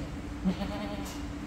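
A single short bleat from a goat on a farm, brief and fairly close over a steady low hum and background murmur.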